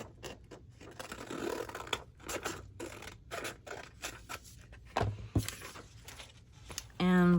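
Scissors trim scrap wrapping paper for a collage, making a run of crisp, uneven snips and papery rustles close by, ending in a louder scraping burst.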